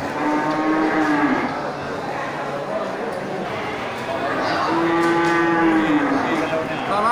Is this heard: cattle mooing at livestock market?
yes